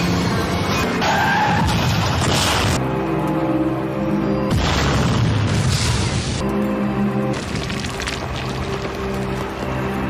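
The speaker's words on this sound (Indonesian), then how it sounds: "Mobil pun kemudian meledak dalam kobaran api." Film car crash: a truck rams a car from behind, then the car explodes into flames. Loud screeching skids and heavy booming impacts come over a sustained tonal backdrop, with no voices.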